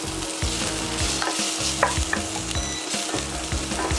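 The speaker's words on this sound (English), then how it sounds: "So I've added a little bit of oil so that the beef bacon will actually cook." Beef bacon fries in oil over high heat, a loud, steady sizzle and crackle with scraping stirs from a utensil throughout.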